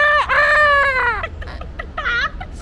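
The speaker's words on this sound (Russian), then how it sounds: "Курица, ко-ко-ко." A chicken, heard while on a family trip in Hong Kong, calls loudly and close: one long drawn-out tonal squawk, then a few short clucks and another rising call, with a low background hum.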